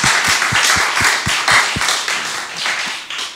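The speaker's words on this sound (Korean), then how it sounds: "박수 쳐주시기 바랍니다." Church congregation clapping together in a rhythmic, unison beat of about two claps per second, loud and close, with a dense wash of scattered hand claps between the strong beats.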